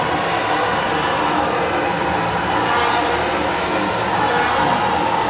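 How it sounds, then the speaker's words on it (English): A large crowd roars in a dense, continuous wash of noise inside an indoor arena during a wheelchair basketball final, steady and loud throughout. "A huge crowd."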